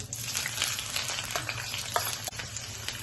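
Chopped onion fries in hot coconut oil, giving a dense, continuous crackling sizzle up close, with a few light scrapes of a spoon and no voices.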